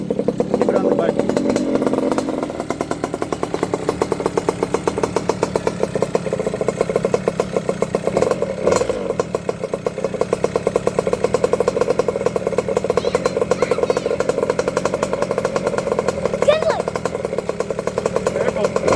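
A SYX Moto 50cc motorcycle engine idles with a rapid, even putter right up close, freshly running after a carburetor clean, while voices talk over it.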